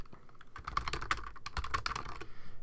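Rapid typing on a computer keyboard, a dense run of close, crisp key clicks at an uneven rhythm, fairly quiet with no voice over it.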